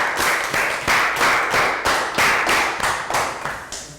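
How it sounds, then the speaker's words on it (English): A class of Year 3 children claps together in a quick, rhythmic round of applause, the bursts coming in regular beats for several seconds, loud and close. "Round of applause for Prel."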